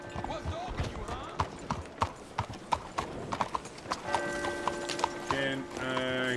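Rhythmic horse hooves clip-clopping at a walk in the video game Red Dead Redemption 2, close and clear, with a voice talking over them and a brief whinny near the end.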